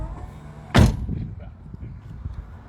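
A car door swings shut under powered, push-button closing: a single sharp, loud thud near the start, followed by low background rumble and faint voices.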